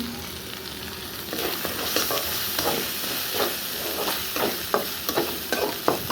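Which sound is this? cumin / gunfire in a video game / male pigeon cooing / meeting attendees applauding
cumin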